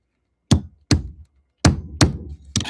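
A hammer striking the metal part of a stuck camming unit, five sharp close knocks with short decays, spaced irregularly with quiet gaps between.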